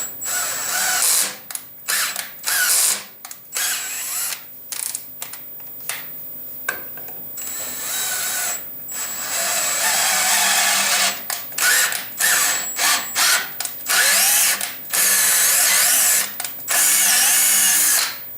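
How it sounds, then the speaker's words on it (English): A power drill drives an M6 spiral flute tap into aluminum in a knifemaking shop, loud whirring bursts that start and stop repeatedly with ratcheting, grinding texture and short quiet gaps between runs. "To tap the holes, I'm going to use one of my favorite tricks by putting a tap in a drill."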